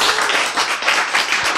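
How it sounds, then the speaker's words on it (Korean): A short burst of dense, steady applause fills the room as a lecture audience claps together on cue, loud and close with no voices over it. "박수!"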